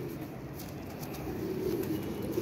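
Pigeons coo softly and repeatedly in a low, murmuring rhythm, faint and somewhat distant, with no voices present.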